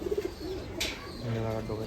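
Imported pigeons give soft, throaty coos up close, a few rolling notes broken by a short hissy burst, under a low ambient hum.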